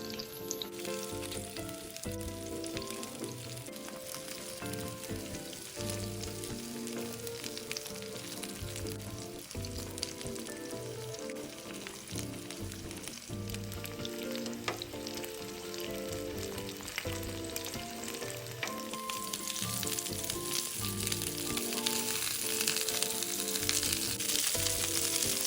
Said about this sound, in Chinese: 一直油煎至两面微焦后即可离火